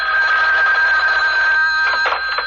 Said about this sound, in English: I'll have to get the phone